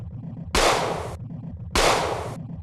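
Two loud, sustained blasts from the standard gun in the video game System Shock: Enhanced Edition, each lasting over half a second and separated by a short pause.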